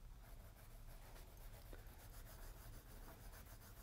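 Dry watercolor crayon scratching across hot press paper, a faint, steady rubbing texture with small strokes and scrapes, heard close up and without talk.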